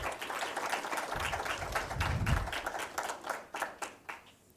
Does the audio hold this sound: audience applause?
yes